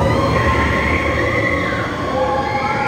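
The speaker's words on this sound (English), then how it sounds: "Walt Disney Railroad is currently going underneath this entire tunnel right here" A Walt Disney Railroad train rumbling through a tunnel at a theme park, a loud, steady roar with faint wheel squeal and no distinct clicks, close and continuous.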